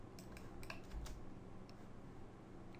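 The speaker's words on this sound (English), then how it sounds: "Now press the W key on your keyboard" A computer keyboard being typed on, with a few quiet, irregular key clicks close by in an otherwise quiet room.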